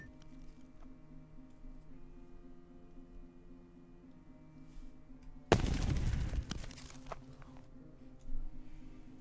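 A sudden, loud booming barrage of cannon blasts erupts midway over a steady low game background hum in Ancient Warfare 2, followed by a smaller rumbling blast near the end.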